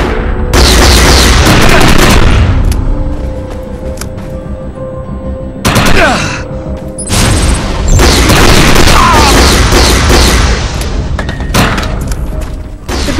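Heavy gunfire from an overcharged weapon pounding an energy projection in the shooter game Defiance, loud dense bursts of shots and booming impacts running almost continuously, with a brief lull midway before the barrage resumes.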